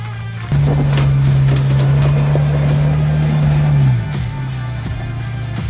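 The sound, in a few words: 2023 Chevy Colorado Z71 crawling up rocks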